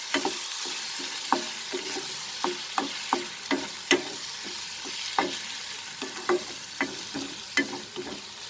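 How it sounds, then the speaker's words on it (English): Spices and tomatoes sizzle in a pan over a medium flame, a quiet continuous hiss punctuated by regular spoon taps and scrapes against the pan as they are stirred. "now cook this over a medium flame till the spices get cooked properly and our tomatoes also gets cooked"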